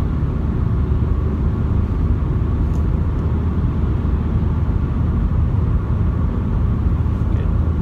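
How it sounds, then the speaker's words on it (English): Car engine droning steadily at high revs from inside the cabin during a driving lesson on roundabouts, a constant broad rumble with faint road noise. "You can hear the car. You know, it hears quite high revs there."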